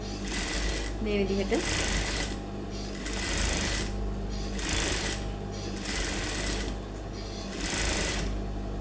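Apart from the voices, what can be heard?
sewing machine stitching a smock crop top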